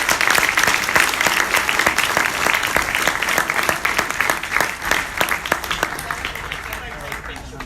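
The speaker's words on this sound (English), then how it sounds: "a round of applause for all of our finalists" A conference crowd at a sports event claps for its finalists: loud, sharp individual claps in quick succession that gradually thin and fade toward the end, with some voices underneath.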